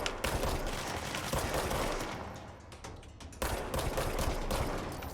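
Gunfire in the video game Control: sustained rapid bursts of shots blending into a dense, continuous barrage, briefly easing in the middle before resuming at full strength, fairly loud with no talk over it.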